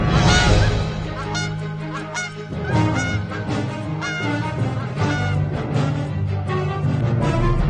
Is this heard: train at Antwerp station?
no